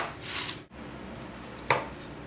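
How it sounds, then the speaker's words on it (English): Two short, crisp knife cuts through romaine lettuce on a chopping board, separated by a pause, quiet and close against a low room hum. "So first I'm going to cut up the romaine lettuce."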